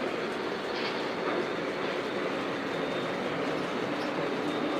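A powered MTH Proto 2 model train runs along its track with a continuous close rumble and faint clickety-clack, steady and unbroken, with no voices.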